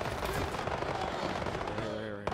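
A video game gun fires rapidly in a dense, steady stream of shots, loud and continuous, and stops sharply at the end.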